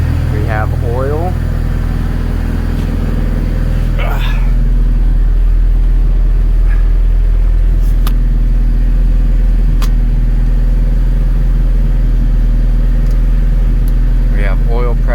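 A 1990 Honda CRX engine idles with a steady low rumble throughout, and a few brief voices sound over it.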